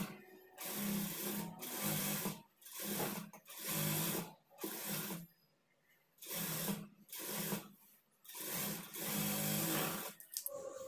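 A sewing machine stitches the edge of a nighty in bursts of steady whirring, stopping and starting several times with short quiet gaps between runs.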